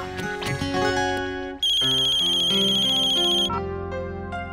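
A phone ringtone rings for an incoming call with a loud, tonal melodic pattern that switches to a brighter repeated tone partway through, with no voices present.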